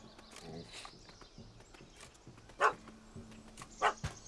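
Two sharp, loud dog barks ring out a little over a second apart in The Witcher 3 game world. Under them sit quiet ambience and a soft, low, rhythmic background pattern.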